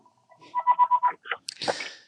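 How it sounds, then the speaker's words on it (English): A house phone rings with a quick run of five or six electronic tone pulses in an even rhythm, followed by a brief rustling clatter, all close and clear with no talking. "my house phones are ringing"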